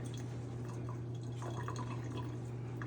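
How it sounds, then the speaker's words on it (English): Tap water runs steadily while a water test probe is rinsed beneath it, a soft continuous splashing and trickle over a low electrical hum, fairly faint and close. "I'm just going to rinse it in the tap real quick"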